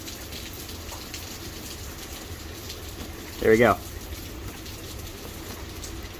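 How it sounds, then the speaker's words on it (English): A heavy, torrential downpour outdoors makes a steady, dense hiss throughout, with a short spoken phrase briefly rising above it. "It is like torrential downpour out here right now."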